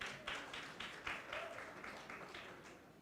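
An audience claps at a 2021 university graduation ceremony in Makassar: soft, distant, steady applause that swells in faint waves and slowly thins out.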